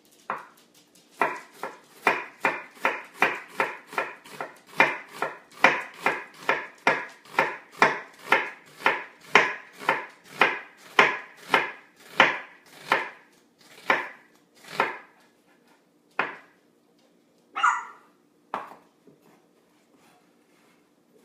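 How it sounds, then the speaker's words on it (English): A knife minces red onion on a cutting board for guacamole, landing a fast, steady run of crisp close chops that thins out into a few scattered strikes at the end. "we're going to mince our red onion"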